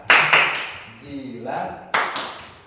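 A classroom of students performs a rhythmic clapping chant: two crisp, close claps, a sung chant word in between, then two more sharp claps in the same pattern.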